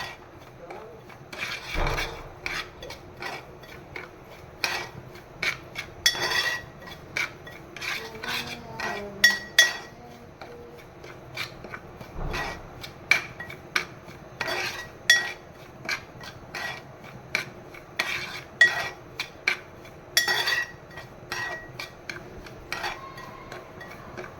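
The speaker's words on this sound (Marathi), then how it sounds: "सतत ढवळत राहायचं हा रव्याला." Semolina (rava) dry-roasting in a pan for sheera, stirred continuously: repeated scraping and clinking of a spoon against the pan in an uneven rhythm, close and moderately loud.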